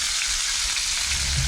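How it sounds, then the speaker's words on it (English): Bacon and abalone sizzle in a hot pan, a steady, close, bright frying hiss with no pauses and no talking. "we've browned the bacon off now. Sizzling."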